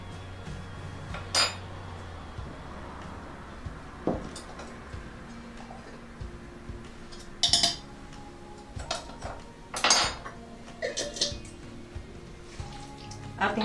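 Beefsteak marinade with soy sauce, garlic and pepper is stirred in a bowl: sparse clinks and taps of a utensil against the dish come in irregular bursts over a quiet background.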